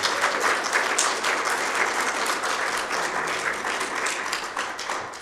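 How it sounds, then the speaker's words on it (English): Dense, sustained applause fills a Rotary Club meeting hall, many hands clapping loudly and evenly before slowly tapering off. "And a big applause to him."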